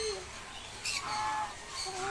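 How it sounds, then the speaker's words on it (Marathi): A parrot gives short chirping calls a few times, faint against a quiet background. "हे बघा हा पोपट."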